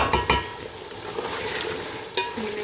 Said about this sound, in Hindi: ये मैं इसमें मिक्स करती हूँ।